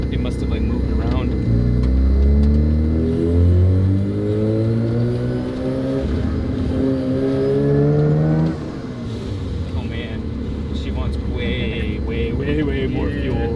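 An old FC car engine, run after sitting 15 years, revs repeatedly in rising and falling sweeps, loud and close, then settles to a rough idle partway through.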